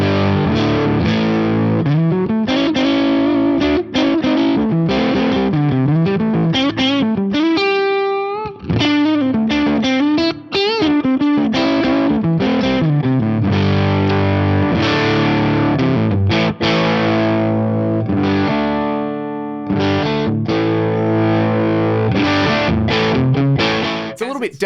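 A heavily overdriven electric guitar plays a sustained lead line, thick, dark and somewhat congested with distortion, ringing loud and close with plate reverb tails.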